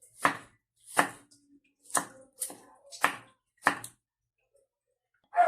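A knife chopping ingredients for sisig on a cutting board, six distinct sharp chops at roughly one-second intervals, close and crisp against near silence, no talking.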